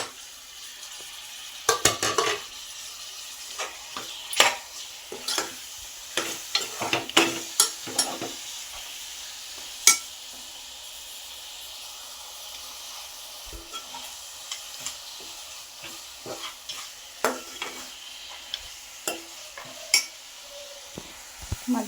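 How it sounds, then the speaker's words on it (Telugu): Mutton pieces stirred and fried in a pot for mutton curry, a low sizzle beneath repeated sharp scrapes and clanks of a spoon against the pot in irregular bursts, close and without talk. "ముక్కల్లో మటన్ వేసుకుందాం"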